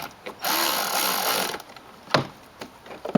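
A power gun loosens a 10mm battery terminal bolt on a Honda CR-V with a close, whirring burst of about a second, followed by a few light metallic clicks and knocks.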